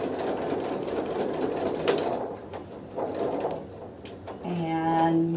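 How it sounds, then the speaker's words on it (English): Sewing machine back-stitching and then running forward along a basting stitch while joining mystery quilt sections; a steady, close mechanical hum with rattling fills the short stretch, with a brief higher whine near the end. "I'm going to go forward and go ahead and sew right along that basting stitch"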